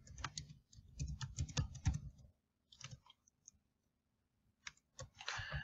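Computer keyboard keys and mouse buttons click quietly while a password is entered, coming in quick bursts of taps separated by silent pauses.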